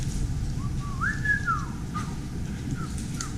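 A person whistles a short, wavering melody, close and fairly loud, over a steady background rumble, with a couple of brief chirpy notes toward the end.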